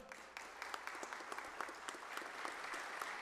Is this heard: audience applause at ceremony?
yes